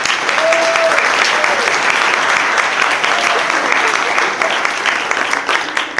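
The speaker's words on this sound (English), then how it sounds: "Give them a round of applause, everyone." Wedding guests clap steadily in a room, a dense, even burst of applause that lasts several seconds and starts to thin out toward the end.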